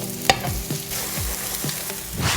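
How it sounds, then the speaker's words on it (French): Meatballs browning in a hot frying pan, a steady close sizzle broken by several scraping stirs of a utensil against the pan. "on y met les boulettes. Et là, on va les laisser revenir gentiment"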